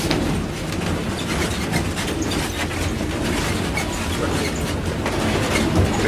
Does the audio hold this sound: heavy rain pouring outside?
no